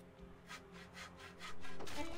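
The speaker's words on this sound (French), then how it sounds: "un deux coups de scie, elle a coupé un arbre." A saw cuts through a tree in the video game Soldats inconnus, a series of rhythmic rasping strokes, moderately loud, with no talking over it.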